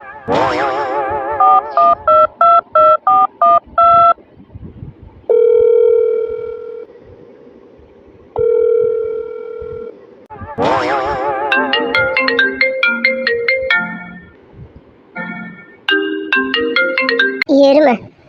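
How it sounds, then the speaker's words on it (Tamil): A phone is dialed and rings: bursts of keypad tones, then two long steady ringback tones, followed by a busier run of stepped electronic ringtone melody. Everything is loud and close, with no talking. "இந்த கதிரு ஃபோன் பண்ணி அவகிட்ட மன்னிப்பு கேளு"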